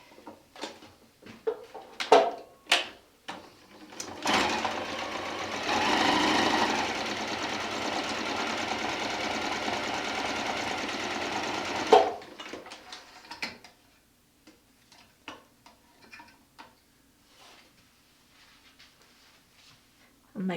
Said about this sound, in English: In fact, let's go sew this one.